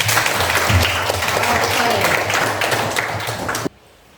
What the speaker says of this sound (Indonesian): Beri aplaus untuk Putri.